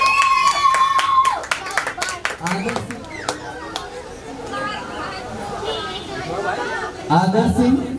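Audience at a Dr. Ambedkar Jayanti prize-giving clapping for the third-place winner of a drawing competition, a burst of sharp claps in the first few seconds fading into chatter and background talk.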